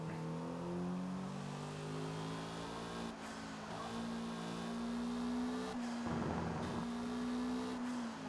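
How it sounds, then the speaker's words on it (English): A Toyota MR2 with a turbocharged engine in the racing game Forza Horizon revs and pulls hard, with layered tonal engine harmonics that rise and fall through gear changes, plus turbo whine and the occasional brief tire noise, steady and loud with no talking. "Listen to that turbo spool. Very nicely done, my beautiful MR2."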